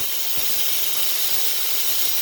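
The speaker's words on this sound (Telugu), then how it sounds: "విజిల్ వచ్చింది ఫ్రెండ్స్. స్టవ్ ఆఫ్ వేసుకొని ఆవిరిపోయాక చూపిస్తాను." A pressure cooker whistle on a stove releasing steam, heard as a steady, loud broadband hiss that keeps going without a break, with no one talking.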